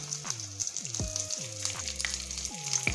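Seekh kebab samosas fry in hot oil with a soft, continuous hissing sizzle, partly under repeated loud gliding tonal sweeps, with no speech.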